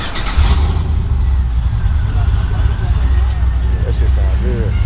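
A stick-shift car's engine cranks and settles into a deep idle with light revving, heard close and loud, with voices talking over it.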